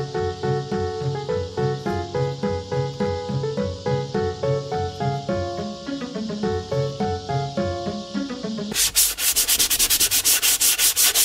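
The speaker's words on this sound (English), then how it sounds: "look at the damage the belt sander did to it" A belt sander grinds against a laptop with a rhythmic rasping scrape, loud and close, ending in a fast, harsh buzzing burst.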